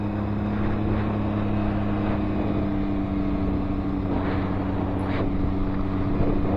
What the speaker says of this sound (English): He's riding a 2003 Suzuki SV650S.